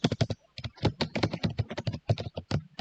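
Rapid keyboard typing while C code is written, with quick irregular clusters of key clicks running steadily for a few seconds, close and clear.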